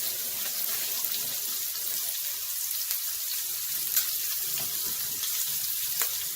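Shrimp frying in oil in a pan, a steady bright crackling sizzle of even loudness throughout, with no voices.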